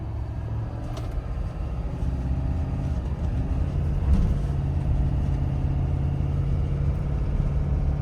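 A Ford F250 Super Duty pickup climbing a hill while towing roughly 13,000 pounds, its engine giving a steady, heavy low drone with road rumble heard from inside the cab.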